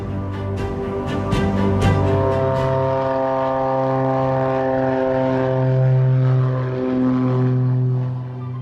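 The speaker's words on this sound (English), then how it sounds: "The moment the plane lifted off and its wheels no longer touched the ground" A propeller airplane engine drones loudly and steadily, its pitch rising and shifting as it powers up and climbs, with no voices.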